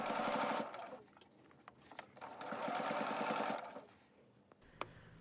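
A domestic sewing machine stitching an invisible zipper close to its teeth runs in two loud bursts of rapid, steady mechanical chatter, separated by a quieter pause, then stops with a brief click near the end.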